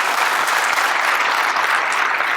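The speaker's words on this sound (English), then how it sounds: "Please, big round of applause for Debbie." An audience at a sheriff's office swearing-in ceremony gives steady, dense applause for Debbie. The clapping is loud and even from start to finish, with no talking over it.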